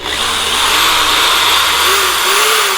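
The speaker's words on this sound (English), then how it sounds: "We're using self-tapping screws to drill a hole" Power drill driving self-tapping screws to bore a hole, likely into a car fender during drift-event tech prep, a loud steady whining buzz running unbroken throughout, close up.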